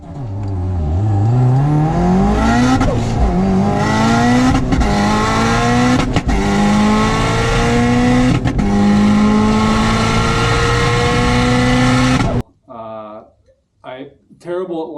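A built Subaru WRX launches at the drag strip, its engine revving hard through rising, repeated gear pulls with brief shift gaps, loud and close, then cutting off abruptly before a short spoken remark.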